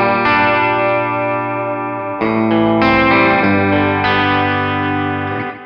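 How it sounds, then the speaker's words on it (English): Distorted electric guitar chords pass through a Tech 21 RK5 SansAmp set to a short delay time, giving a shimmering chorus-like thickness; several sustained chords ring loud and alone, then fade at the end. "Just drop the delay time a little bit for a chorusy sound."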